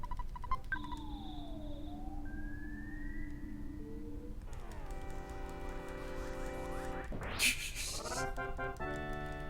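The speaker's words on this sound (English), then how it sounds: "Here goes Draven with the yowling again." A cat yowls in a drawn-out, rising and falling wail, heard up close over game music with siren-like tones during a glitchless Earthbound speedrun, the cries sliding in pitch before a loud burst near the end.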